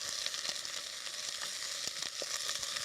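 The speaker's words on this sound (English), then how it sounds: "we'll fry that until the onions have gone nice and soft" Onions and shallots fry over high heat, a dense, bright crackling sizzle close by with a few faint stirring taps and no talking.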